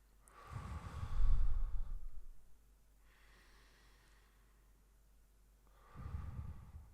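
Slow, deep breathing close to the mic: a long audible inhale and exhale, a quieter pause, then another strong breath, with no talking.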